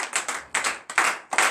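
A church congregation at morning prayer in Benin claps in four sharp bursts, each a quick cluster of hand strikes, close and crisp with short gaps between.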